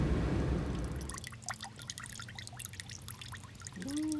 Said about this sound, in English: So let's turn it off and drain it and do this again.